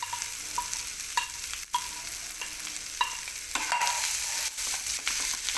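Ground cluster beans mixed with chillies, coriander and crushed peanuts, being stirred in a frying pan, with repeated distinct clinks and scrapes of a spoon against the pan over a soft sizzle, no speech.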